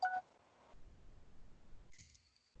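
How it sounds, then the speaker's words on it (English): Mobile phone going off, a faint electronic tone at the start and a short high beep near the end, with quiet background rustle between. "Sorry, my phone's going off."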